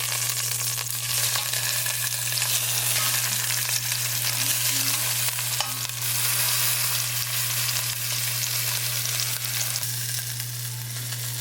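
Oxtail browning in a hot pan gives off a loud, steady, dense sizzle and spitting that carries on without a break, close up, with no talking.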